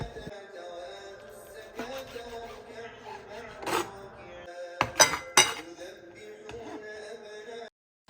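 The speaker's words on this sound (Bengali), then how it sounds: "চিকেন ব্রেস্টে নিচ্ছি আমি, আর আজকে আমার ফুড প্রসেসরটা ইউজ করি না আর কি, আমি ছুরি দিয়ে কেটে ফেলছি" Knife cutting raw chicken breast on a cutting board in a home kitchen, heard as scattered clinks and taps mixed with a few sharper knocks over a steady background hum, with no one speaking.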